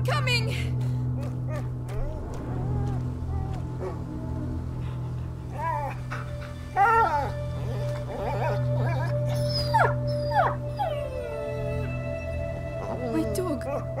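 A dog whimpers and yips in A Plague Tale: Innocence, with high wavering cries and whines coming in repeated bursts over a low steady drone, while people talk in between.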